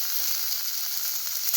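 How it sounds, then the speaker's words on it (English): Tomato pieces sizzle in a hot pan, a steady close hiss holding evenly through the whole short stretch with no voices. "Now put in the tomato pieces"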